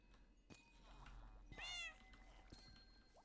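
A Minecraft cat meows in a short run of harmonic cries, the loudest one near the middle, set against quiet game ambience with no talk.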